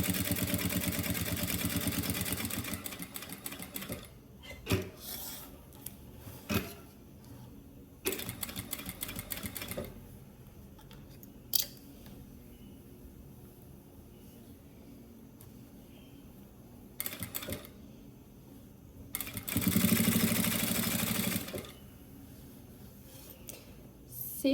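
A sewing machine stitches a fabric bag in short bursts, with loud whirring runs at the start and near the end and brief spurts between quieter pauses. The machine is close and no one speaks.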